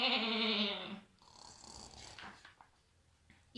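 A voice imitates a sheep's bleat in one drawn-out, wavering call lasting about a second, followed by quieter breathy sounds; told as part of a children's story about snoring.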